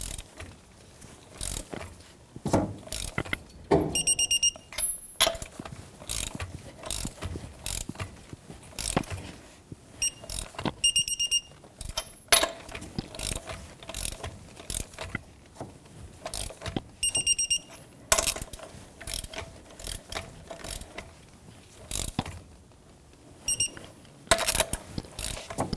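A torque wrench tightens the wheel lug nuts on an 03 Jeep Wrangler, a rapid ratcheting clatter in repeated bursts with metallic clicks, up close with short pauses between nuts.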